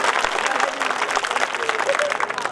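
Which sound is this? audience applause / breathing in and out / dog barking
audience applause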